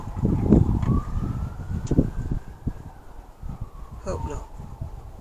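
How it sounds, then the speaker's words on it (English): Emergency vehicle siren, police or ambulance, heard from outdoor decking as a distant wailing tone rising and falling, partly under a nearby voice, with a few brief higher chirps near the end. "Could be an ambulance."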